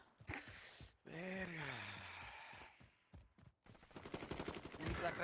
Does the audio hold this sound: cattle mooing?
no